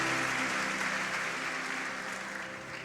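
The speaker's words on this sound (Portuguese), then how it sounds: "aplauda o nome de Jesus" Dense applause from a church congregation at a conference service, loud and continuous at first and easing slightly toward the end, with a faint sustained tone underneath.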